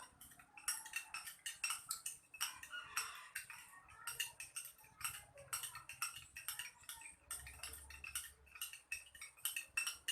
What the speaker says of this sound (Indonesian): Ibu Guru aduk beberapa menit.